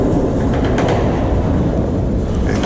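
A freight train rolls backward with a loud, dense rumble and rattling cars, close by and steady, with faint squeaks and clanks over the roar and no voices.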